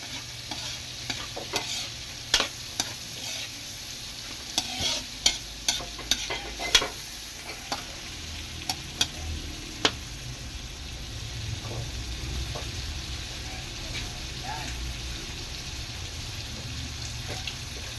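Onions frying for pork or chicken adobo in a pan, a steady close sizzle with scattered sharp clicks of a utensil against the pan through the first half, the hiss continuing alone afterwards.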